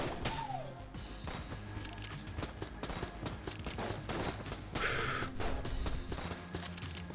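Gunfire from a weapon in the video game Enter the Gungeon rattles in rapid, continuous bursts, dense and steady throughout, mixed with game effects and a brief bright chime.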